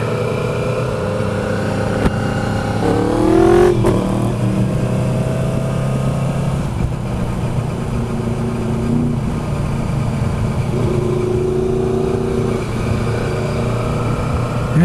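Motorcycles and cars idle and rev at a Cycle Gear bike night, with a steady engine drone and a brief rising rev partway through, fairly close and continuous.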